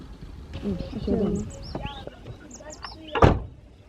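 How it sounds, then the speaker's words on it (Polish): Small birds chirp and trill outdoors in a scattered series of short, high calls, fairly near, with someone talking over them and a sharp knock near the end. "Słuchajcie, jak ptaszki ćwierkają."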